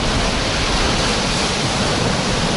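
Storm surf pounding a beach at Alushta on the Crimean coast, a loud, unbroken roar of crashing water and wind buffeting the microphone, with no voices.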